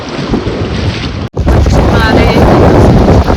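Sea waves washing in at a beach, a loud continuous roar buffeted by heavy wind on the microphone, with a brief dropout partway and voices faintly mixed in.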